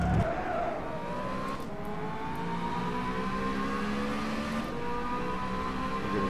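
A GT3 race car in a racing video game laps Bathurst, its engine droning loud and steady, pitch climbing through gears with brief shift breaks and a rising whine as it accelerates.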